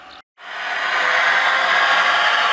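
A Dapol Class 66 model locomotive with DCC sound plays a steady diesel engine drone with a bass tone, rising after a brief silent gap and holding at a constant, moderately loud level.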